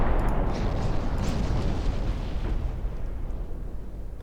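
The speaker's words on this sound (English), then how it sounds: "There are the hit torpedoes." Torpedo hits exploding against a ship in the naval game Ultimate Admiral Dreadnoughts, a loud, sustained roaring blast of low rumble that slowly fades, with no voices.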